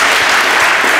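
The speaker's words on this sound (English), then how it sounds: "And one more round of applause for Amy." Podcast audience applauding guest Amy Berger at a live keto show, a brief burst of steady, dense clapping from a close crowd.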